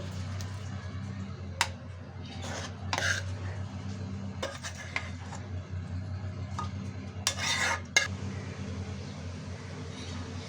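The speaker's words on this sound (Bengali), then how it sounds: "এখানে একটা বাটি নিয়ে নিয়েছি এবং এটা আমি পরিবেশন করে দিচ্ছি" Chepa shutki vorta being served into a bowl: occasional spoon clinks and scrapes against the dish over a low steady hum, close but quiet, with no talking.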